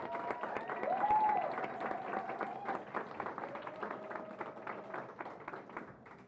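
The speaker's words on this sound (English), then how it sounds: "so give them another round of applause." An audience at a summit on gender applauds a panel, with steady, moderately distant clapping from a crowd, while a few voices and whoops rise over the hands before the applause thins out.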